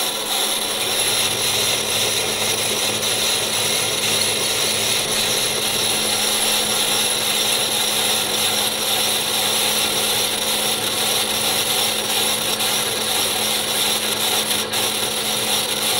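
Metal milling on an Audi RS4 engine part, cutting in two different directions; a loud, continuous rattling and grinding machine drone runs unbroken throughout, with no talking.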